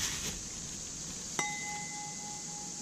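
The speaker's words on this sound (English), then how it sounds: "When you hear that ring, that's crystal." Crystal wine glass tapped once, giving a sharp clink followed by a clear, sustained ring that hangs steadily for over a second, close and fairly quiet.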